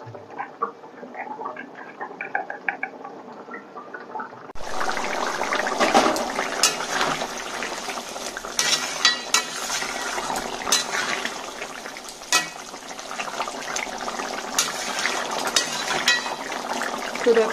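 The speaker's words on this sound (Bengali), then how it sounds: "জিরে আর মরিচের গুঁড়ো দিয়ে আমি তরকারিটাকে একটু নাড়াচাড়া করে নিলাম" Fish curry with bhetki and maan kochu being stirred in a pan after cumin and chilli powder go in, a busy, continuous scraping and clattering that starts abruptly after a quieter opening and carries on steadily with occasional sharper knocks.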